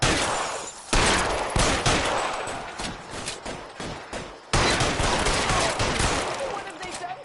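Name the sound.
gunshots in the video game L.A. Noire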